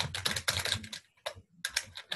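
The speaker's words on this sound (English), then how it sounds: "we have somebody in the background who's typing really fast" Rapid typing on a computer keyboard in the background of an online meeting: dense bursts of quick key clicks, a brief pause, then another fast run, fairly close and alone with no talk.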